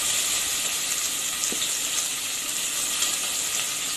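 Chopped onions hit hot oil with fried fenugreek seeds while cooking moong dal rice, giving a steady, loud, broadband sizzle that fills the whole stretch with a faint clink partway through.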